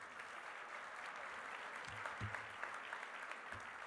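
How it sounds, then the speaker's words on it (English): Applause from an audience at a Forty Under 40 honors event, steady dense clapping that sounds soft and distant and continues throughout without talk. "let's give this group another round of applause"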